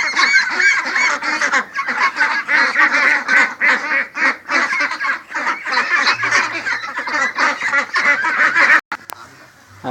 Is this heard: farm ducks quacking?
yes